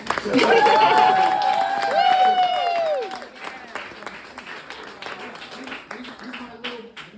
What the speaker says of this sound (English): So please give a round of applause to our son, Croix.